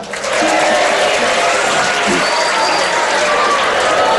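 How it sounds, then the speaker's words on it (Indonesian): Loud applause from a crowd of Islamic boarding school students at a religious gathering, cheering on one student called forward; a broad, steady wash of clapping with a few voices mixed into the noise. "Tepuk tangan buat Faisal."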